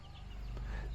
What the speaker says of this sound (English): There's a little chicken. It's trying to dig up a worm for it